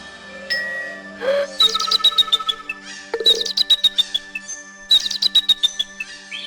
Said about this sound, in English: For a big bird, that eagle has a pretty small call.